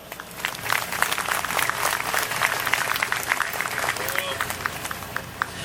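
An outdoor crowd at Freedom Fest on Fort Rucker gives sustained applause for a sponsor. The clapping is steady and fairly close, with faint crowd murmur beneath it.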